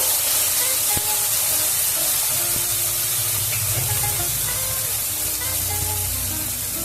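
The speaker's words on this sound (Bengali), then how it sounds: "তেলের মধ্যে এক চামচ নুন দেবো" Salt spooned into hot oil in a pan while making beet paste, giving a steady close sizzle and spitting hiss that runs continuously throughout, with faint clinks over the top.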